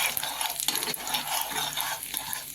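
Mustard seeds, cumin and urad dal crackle and sizzle in hot oil in a pan, with busy spattering and a couple of stirring scrapes, close and fairly loud.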